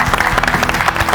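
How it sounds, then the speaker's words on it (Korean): Studio audience applause during a televised lecture program, a brief burst of dense clapping at close range. "박수 부탁드리겠습니다"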